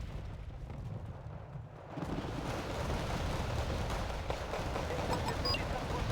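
Mortar fire and explosions in a combat video game, a dense, continuous barrage of booms and rumbling that swells louder after a quieter opening and stays heavy throughout.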